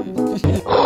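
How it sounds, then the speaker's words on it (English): A tiger's roar, short and loud, sounds once as a single growling burst of about a second. A second harsh burst follows straight after it. "Tiger."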